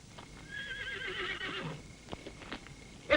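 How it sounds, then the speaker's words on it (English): Horses neigh in a 1962 Trojan War epic film scene, a rising whinny carrying through the middle of the clip, followed by scattered hoof clops and thuds, moderately near against a quiet background. "What's wrong with the horses?"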